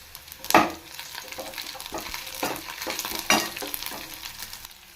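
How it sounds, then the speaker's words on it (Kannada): Green chilies and curry leaves frying with onion in hot oil for a garlic tomato chutney give a continuous sizzle, with sharp bursts as ingredients drop in and several stirring scrapes. "ಹಸಿಮೆಣಸಿನಕಾಯಿ, ಕರಿಬೇವು ಹಾಕ್ಕೊಳ್ತಾ ಇದ್ದೀನಿ"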